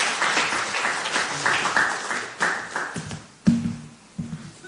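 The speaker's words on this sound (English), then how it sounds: "So please give him a round of applause." An audience applauds in a room at an author's reading of his novel, a dense patter of clapping hands with a few louder claps near the end as it dies down.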